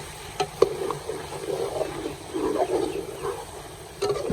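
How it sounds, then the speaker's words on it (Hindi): A spoon stirs chicken karahi in a hot pan just after chopped green chillies go in, with close sizzling and frying, scraping swirls, and a couple of sharp clinks at the start. "बारीक कटी हुई हरी मिर्चें शामिल करने के बाद एक बार चम्मच चला देंगे"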